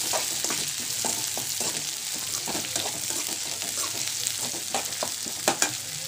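Onion and green chili sauté in a pan of oil for a chicken masala gravy. A steady sizzle runs close and constant, broken by repeated scraping stirs of a utensil and a couple of sharp knocks near the end.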